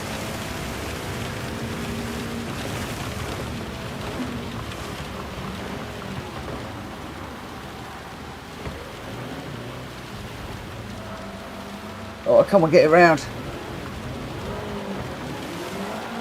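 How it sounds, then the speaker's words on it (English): Steady rain hiss in a racing video game, a continuous wash under car engine noise throughout, with a short loud burst near the end and a few brief spoken words. "I do love racing in the rain."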